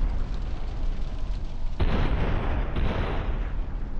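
A sudden loud explosion in GTA San Andreas booms in over steady rumbling noise, followed by a sustained roaring blast.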